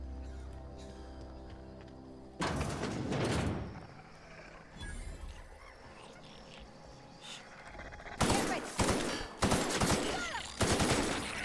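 Gunfire in The Outer Worlds, a few loud bursts of shots separated by quieter stretches, the last bursts clustered close together near the end.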